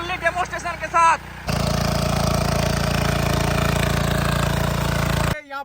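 A 7HP Kama engine drives a tiller digging into farm soil at a field demonstration, a loud steady chugging roar that starts after brief talk and cuts off abruptly near the end.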